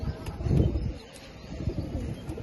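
A young feather-footed pigeon coos close by in a low, throaty burst, then softer murmurs trail off against quiet background noise.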